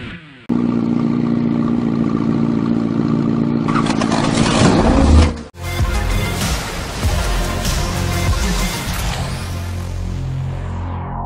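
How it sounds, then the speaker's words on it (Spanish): Porsche cars lap a race circuit in Panama, engines droning loudly up close, then a sharp break before another car revs hard and accelerates past, with clattering mechanical noise and no voices. "un grupo de propietarios de Porsche volvieron a salir a la pista a disfrutar de sus"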